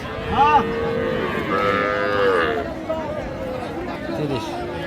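A Sahiwal cow with her calf at a cattle market lows a few times, with drawn-out moos rising above a steady murmur of nearby crowd chatter and people talking.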